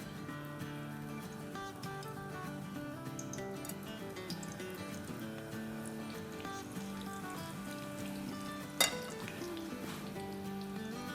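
Pakora batter frying in hot oil: a steady, even sizzle and crackle runs throughout, close and moderately loud, with one brief sharper pop partway through and no talking.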